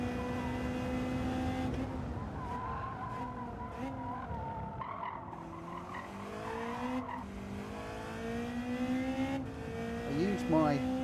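Gr.1 and Gr.3 race cars in Gran Turismo 7 roar through a multiclass race, engine notes rising and falling with screeching tire squeal near the end, while someone talks over the steady loud mechanical noise.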